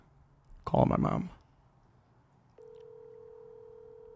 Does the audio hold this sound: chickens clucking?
no